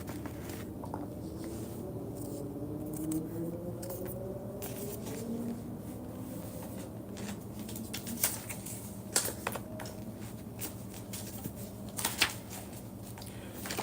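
A tarot card deck being shuffled by hand, soft riffling and tapping in quiet irregular bursts with a few sharper clicks near the end, close and faint against a low background hum.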